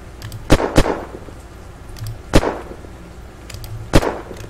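An Augewehr rifle in Unturned fires four sharp, loud cracks, two in quick succession and then two spaced singles, each followed by a brief echoing tail.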